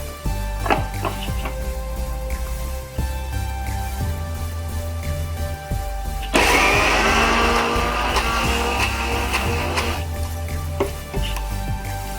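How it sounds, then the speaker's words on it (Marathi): A kitchen mixer grinder whirs as it grinds soaked, drained lentils into a batter, a steady motor hum that surges into a loud, gritty roar midway before settling back. "सगळ्यात अगोदर मी डाळ वाटून घेणार आहे मिक्सर मध्ये"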